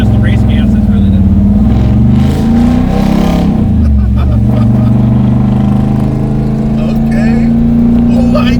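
A 50-year-old Buick making 780 horsepower roars loudly and steadily as it accelerates, its engine note rising and holding close throughout, with voices in the car heard over it.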